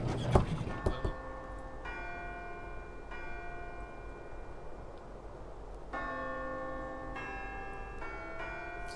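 Church bells ring a slow melody in the game Syberia, clear sustained tones struck one after another with long ringing decay, heard alone after a brief thump at the start.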